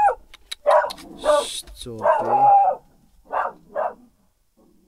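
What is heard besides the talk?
dogs barking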